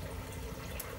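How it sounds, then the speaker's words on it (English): Aquarium water drains from the first 40-gallon section of a sump into the final sump, a steady close rush and trickle of pouring water with no voices. "my 40-gallon first part of my sump here is all draining into my final sump here"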